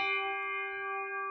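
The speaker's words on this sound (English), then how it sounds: "let's give you a gong" A single gong sound effect rings out once as a bright, sustained metallic tone that holds steady and fades slowly, heard alone without talk.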